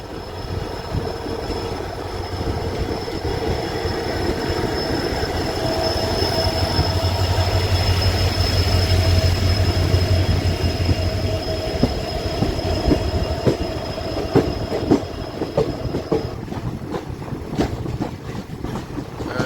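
Train rolling along the Guwahati–Ledo line near Simaluguri Junction, a steady loud rumble of wheels and cars running throughout, with a faint high squeal riding over it and sharper clatter toward the end.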